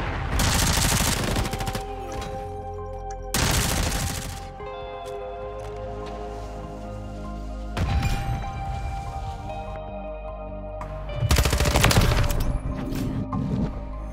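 A STATIC-HV SMG fires in a video game: four loud bursts of rapid automatic gunfire, each lasting a second or two, separated by quieter gaps filled with lingering ringing tones.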